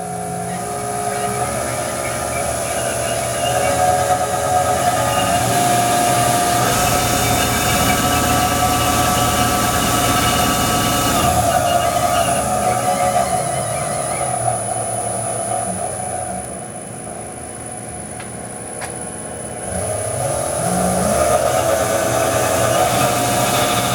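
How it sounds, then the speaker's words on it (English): Omniturn GT-75 Series II gang tool CNC lathe with its spindle running, a steady, loud machine hum with whining tones that holds continuously, dipping briefly before rising again. "Spindle sounds good."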